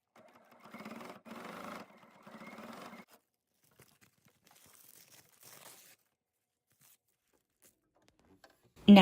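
A sewing machine stitches a clear vinyl snappy bag in two short whirring bursts, followed by quiet rustling of the material and a sharp knock at the very end.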